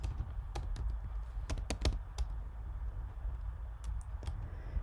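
Typing on a computer keyboard, scattered quick clicks of keys in short bursts, faint and close over a quiet room hum.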